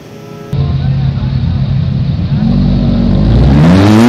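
Lamborghini sports car engine revving, a loud low growl that kicks in abruptly after a brief quiet start and climbs in pitch toward the end, with a voice talking over it.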